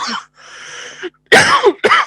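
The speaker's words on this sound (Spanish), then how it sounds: "ay, qué tos." Two or three harsh, close coughs burst out in quick succession after a brief breathy lead-in, loud and raspy with no talking.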